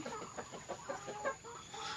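Chickens clucking in short repeated bursts at a backyard roost at dusk, close by and steady, with no talking.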